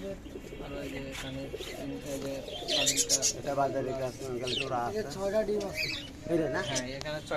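Caged pet birds, including parrots, call at a bird sale, with chirps, squawks and soft cooing mixed together close by while someone talks throughout.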